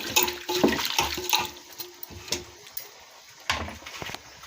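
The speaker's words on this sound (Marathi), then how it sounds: "पहिले मिठाच्या पाण्याने हे पानं धुवून टाकायचे" Punarnava leaves are washed by hand in salt water, with irregular splashes and sloshing bursts, close by and stronger at the start before thinning into scattered splashes.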